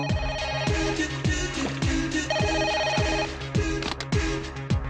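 The ringback tone of an outgoing telephone call, a repeated electronic trill, steady and fairly loud, with no one speaking.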